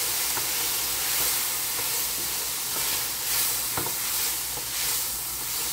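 Drained corn and rinsed beans sizzle loudly in a hot skillet, the steady frying hiss broken by scraping stirs and a few clacks of a utensil against the pan.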